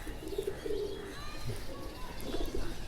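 Large Amritsari pigeons coo in low, throaty bursts, two drawn-out calls near the start and another pair near the end, with faint chirps and light background noise around them.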